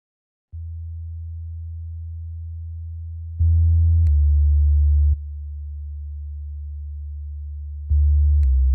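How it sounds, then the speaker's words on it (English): A generated sine synth from the Sub-Lift plugin heard on its delta setting: a steady low sine drone with added upper harmonics, stepping up in level and brightness twice, with brief clicks at the changes. "there's a generated sine synth and it's creating all those extra harmonics up there"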